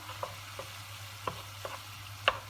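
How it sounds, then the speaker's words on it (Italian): Scattered scraping and tapping of a utensil crumbling sausage in a pot with the heat off, a few soft irregular knocks over a steady low hum. "la sgraniamo sempre a pentola spenta"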